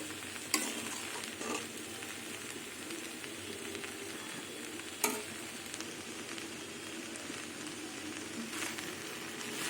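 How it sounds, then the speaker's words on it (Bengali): Flat beans, potato and onion greens frying in a pan, a steady soft sizzle with a few brief clinks of stirring, fairly quiet and with no voices. "সিম আলু পেঁয়াজ কলি পাতা দিয়ে ভাজা হয়ে গেছে"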